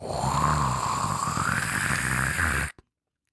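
A voice mimics a siphoning drain's continuous gurgling, rough and bubbling, held for a few seconds before cutting off abruptly into silence.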